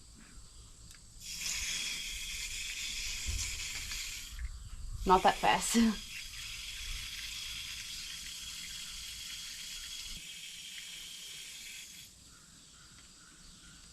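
Water runs from a tap into a container holding cleaner, a steady hiss of filling with a short spoken remark in the middle and the flow cutting off near the end.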